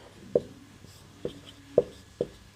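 A pen or chalk writes out a Class 10 geometry proof of the Thales theorem, making a few sharp isolated taps and short scratches close by, with quiet pauses between strokes.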